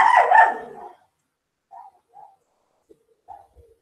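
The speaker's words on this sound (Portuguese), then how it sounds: "o problema é que o cachorro está interferindo no som" A dog barks loudly once close to a microphone during an online webinar, then a few faint, short yelps or barks follow after a silent gap.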